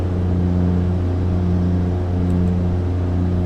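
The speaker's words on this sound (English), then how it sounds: "just turn down the volume of the engines, even though it's still quite loud." Twin piston engines of a Piper Navajo PA31 drone steadily in the Prepar3D flight simulator, a loud, constant low hum with no pauses or talk.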